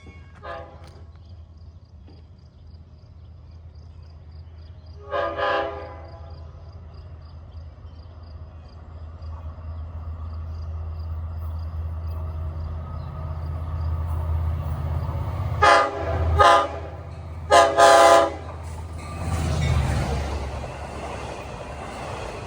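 Long Island Rail Road train approaching on the Montauk Branch, a low rumble building steadily from afar with short horn blasts early, then a cluster of louder horn blasts near the end as it draws close.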